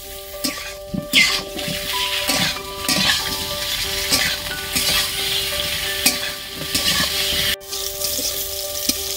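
Brinjal, broad beans and drumstick pieces fry in hot oil for shukto, giving a loud continuous sizzle with repeated scraping stirs and light clinks of a utensil against the pan, and no voices.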